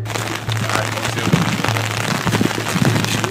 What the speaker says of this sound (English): Fuck you, Austin, it's raining!